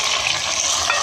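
Browned onions with tomatoes and green chilies fry in a pan for kulfa dal, a steady loud dense sizzle with soft stirring movement underneath.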